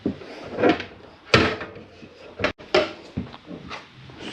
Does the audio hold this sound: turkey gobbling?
no